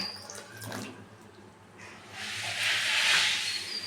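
Vinegar, about four spoonfuls, poured into thickened mango kasundi, a hissing liquid stream that starts softly and grows louder and steadier near the end, close by with no talk.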